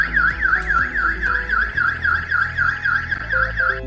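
An alarm siren linked to an electric fence system wails in a continuous rapid up-and-down warble, loud and steady for the whole stretch, over a low background hum with no voices.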